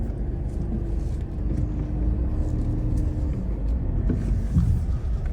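A car crosses a rough, stony mountain road near the Line of Control in Kashmir, its engine rumbling steadily throughout, with occasional bumps and knocks from the uneven track.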